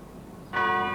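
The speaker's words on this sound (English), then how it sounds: "The bell that rings today at St. Michael's and All Angels in Christchurch actually came with the settlers in one of the first 4 ships." The church bell of St. Michael's and All Angels in Christchurch strikes once after a short quiet stretch, then rings on with a loud, sustained metallic tone.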